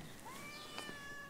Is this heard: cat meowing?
yes